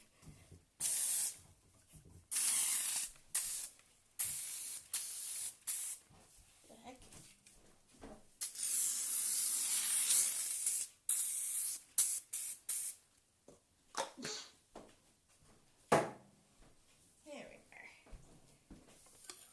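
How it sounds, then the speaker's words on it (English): Cooking spray from a no-name can is sprayed onto a baking sheet in bursts of sharp, close hissing, some short and one longer, separated by quiet gaps. "So we got our cooking spray."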